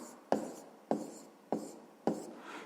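Four evenly spaced strokes of chalk or pen on a board as a math teacher writes out a sum in a fifth-grade lesson, each a short sharp scrape fading quickly, close and alone with no talking.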